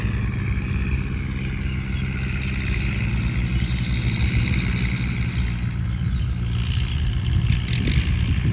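A Kubota L 50 tractor's diesel engine runs steadily up close, a continuous low throbbing rumble with slight surges, no voices.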